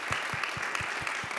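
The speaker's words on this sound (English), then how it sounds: "please applaud." An audience claps at a panel discussion on philanthropy and countering hate. The clapping is steady and rhythmic but faint and distant, with no voices over it.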